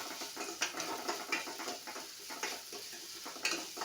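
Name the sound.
sautéing chilli with garlic paste and salt in a pan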